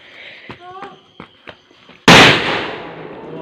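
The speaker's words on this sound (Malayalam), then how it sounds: "അവസാനം ഞങ്ങളതിൽ ഒരു ഗുണ്ടും കൂടെ പൊട്ടിക്കാൻ പോവാണ്." A gundu firecracker bursts at a Vishu celebration with one sudden, loud, close blast that rolls into a long decaying rumble, after a stretch of softer sharp pops and some background voices.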